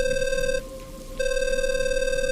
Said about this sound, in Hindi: लेकिन उसी वक्त मेरी पत्नी माया का कॉल आया।